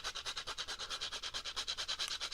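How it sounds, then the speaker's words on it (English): Fresh nutmeg scraped on a microplane gives a quick, steady series of soft, raspy strokes, close and faint, about eight per second. "So the nutmeg, obviously, we're going to do a little bit of a fresh grate."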